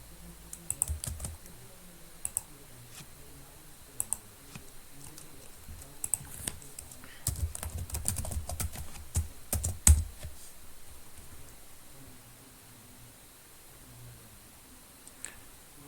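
Login details typed on a computer keyboard, a quiet, close run of light key clicks in uneven bursts with a few louder taps.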